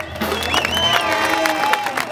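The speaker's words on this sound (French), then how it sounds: "On peut l'applaudir." Rodeo crowd applauding and cheering for a rider, a dense mix of clapping and shouts with a voice calling out over the noise.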